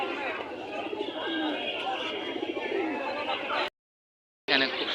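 A male white Bombay pigeon coos at a busy pigeon market, repeated soft throaty calls under steady crowd chatter and nearby talk, with a brief gap near the end.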